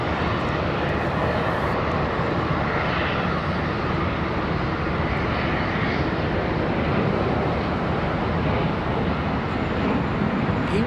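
A jet airliner departs from Charlotte Douglas International Airport with a loud, steady engine roar that fills the whole stretch, heard from nearby with no talking.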